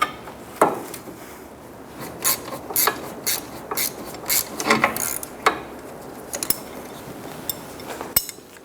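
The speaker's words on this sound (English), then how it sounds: "Remove the nuts off the top and bottom of the sway bar link." Ratchet clicks while nuts are removed from the top and bottom of a Scion xB front sway bar link, heard as scattered short bursts of ratcheting and metallic mechanism noise, moderately close, with no talking.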